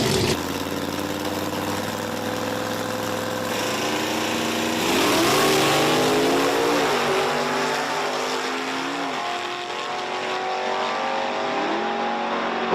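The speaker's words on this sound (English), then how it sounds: "Got the Stingray Corvette over here in the right lane going up against the Ford pickup truck." A Stingray Corvette and a Ford pickup truck drag racing at Virginia Motorsports Park, loud engines idling then revving hard with repeated climbing pitch sweeps through gear changes, steady and close throughout.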